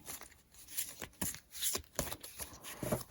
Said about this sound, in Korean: 간절한 마음을 담아 셔플을 먼저 할게요